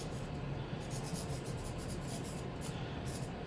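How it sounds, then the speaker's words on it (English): A tool scratches sgraffito decoration through a coated surface on clay pottery, making a steady close-up scraping and rubbing texture with short repeated strokes, heard alone without talking. "Put a thing on the surface and then scratch back through it to show the color of the clay that's underneath."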